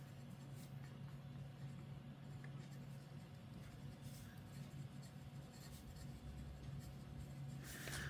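A fountain pen loaded with Private Reserve Neon Fuchsia ink scratches across cheap copy paper, a soft continuous nib scratching close to the mic over a low steady hum, with no talking.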